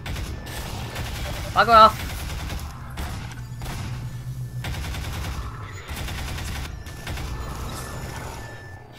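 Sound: gunfire in the video game Half-Life 2

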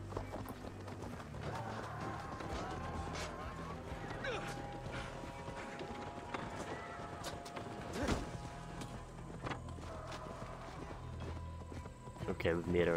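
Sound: horse hooves galloping in Assassin's Creed Valhalla video game

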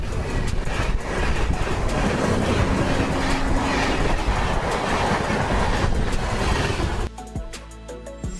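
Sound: electric locomotive train running on rails

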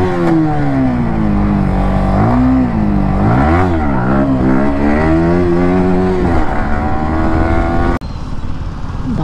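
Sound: modified RS 200 motorcycle revving for a wheelie

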